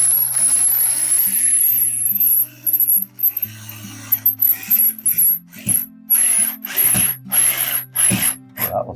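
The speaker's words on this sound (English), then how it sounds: "putting flathead screws on these wall plates" A power driver or ratcheting screwdriver sets flathead screws into wall plates: a long whirring run, then a series of short stop-start bursts, close and loud, with no voices.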